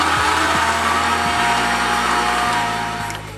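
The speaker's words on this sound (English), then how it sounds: "let the blender go until you can no longer hear the ice rattling around" A blender whirs loudly and continuously, mixing cream, egg white and ice cubes for a Ramos Gin Fizz, its motor pitch stepping down a couple of times as the contents smooth out.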